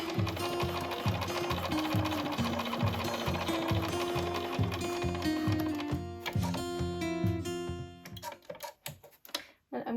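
Sewing machine stitching past a zipper on a lined sewing project, a loud rapid rhythmic clatter running continuously before slowing and breaking into a few separate mechanical clicks near the end.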